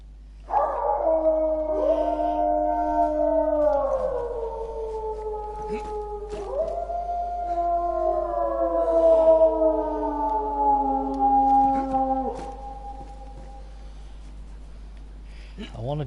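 Several dogs howl outdoors in the DayZ survival game, long wavering overlapping howls rising and falling in two drawn-out waves over a steady low hum, fairly loud and close, with no talk.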